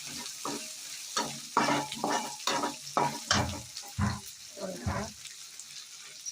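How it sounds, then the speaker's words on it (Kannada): Onions sautéing in a pan for pepper chicken, a sizzle broken up by repeated scraping stirs in an uneven rhythm, close and fairly quiet. "ಈರುಳ್ಳಿ ಹಾಕೊಂಡು ಸ್ವಲ್ಪ ಬಾಡಿಸ್ಬೇಕು."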